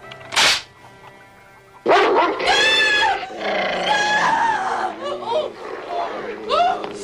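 Loud, close barking and yelping from a dog, preceded by a sharp burst, with excited barks and whines continuing over several seconds.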